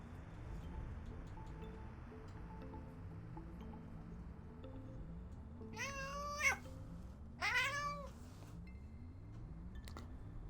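A cat meows twice in quick succession, two short drawn-out calls over a quiet, steady low rumble with faint rustling in the background.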